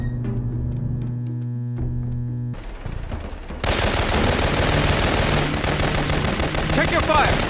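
Sustained gunfire in a Syphon Filter cutscene, starting after a quieter passage of background music and building into a dense, loud stretch of rapid shots that runs to the end.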